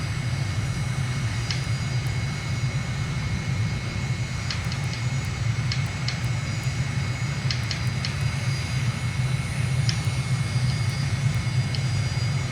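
A steady, loud aircraft engine roar during a takeoff roll in Microsoft Flight Simulator, a constant deep rumble with a high whine and faint clicks on top, no voices.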